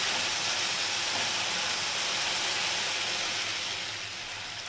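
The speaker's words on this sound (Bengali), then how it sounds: "এবার আমি এর মধ্যে জল দিয়ে দেবো আর আমি কষাবো না" Water poured into sizzling hot spice masala in a pan, a loud, broad rushing hiss of steam that holds steady and eases slightly toward the end.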